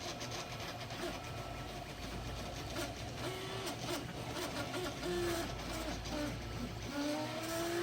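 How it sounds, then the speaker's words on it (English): A 3D printer runs while printing a part, giving a steady mechanical whir with stepper-motor tones that rise and fall, near and continuous throughout with no speech. "I got a part printing on the printer right now, and it can be kind of noisy."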